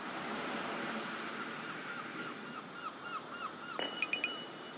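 Ocean surf washes in a steady, even roar throughout, with a few faint bird chirps rising briefly near the end.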